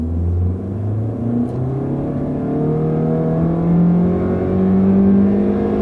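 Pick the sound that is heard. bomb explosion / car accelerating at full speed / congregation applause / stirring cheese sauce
car accelerating at full speed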